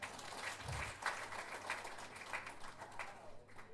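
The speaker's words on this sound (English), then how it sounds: "it's good to clap hands for yourselves" Audience members at a Ghanaian women farmers' event clapping for themselves, a faint, fairly steady patter of hand claps with a brief low thump early on.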